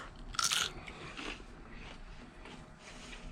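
Crisp crunching bites into cooked marsh clams, a loud sharp crackle up front followed by softer chewing crunches close to the mouth.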